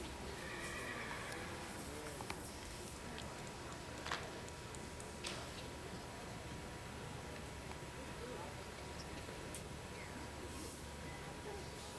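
An Irish Draught stallion whinnies faintly outdoors, its call partly buried under constant loud wind-like noise, with a few sharp knocks scattered through.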